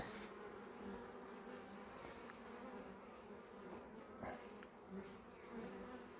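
Bees hum and buzz continuously around a beehive outdoors, a dense, even drone at moderate distance with a few brief louder passes of individual insects close by.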